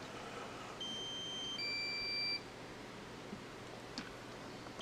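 A few short electronic beeps at different pitches, a drone's low-battery warning at a kart race, sound in sequence over a steady hiss of outdoor background noise, followed by a faint click.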